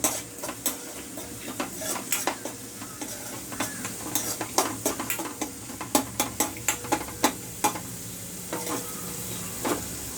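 Onions sizzle with salt in a kadai for kadai paneer while a spatula stirs steadily, scraping and clicking against the metal pan in a quick, irregular rhythm; close and clear, with no talking.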